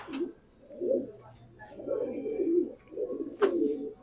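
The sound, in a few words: pigeons cooing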